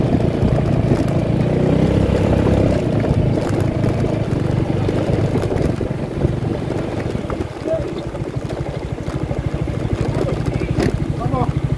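Yamaha XMAX 250 scooter ridden over a rocky, uneven road, its engine drone and wind rumble constant and loud throughout, with jolting rattles mixed in and no talking.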